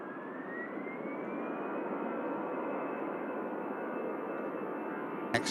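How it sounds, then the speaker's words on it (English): A jet airliner departs Manchester Airport in winter, its engine roar steady and loud throughout with a rising whine, heard alone without talk. "Next aircraft out."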